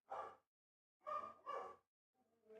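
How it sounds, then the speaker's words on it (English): Three or four short, sharp puppy barks or yips spaced about a second apart, fairly close, with a quieter whimper-like sound at the end. "Loud puppies."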